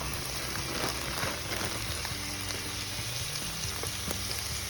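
Coleslaw mix and minced garlic fry in a pan with a soft, steady sizzle and occasional stirring scrapes, fairly quiet and without talk.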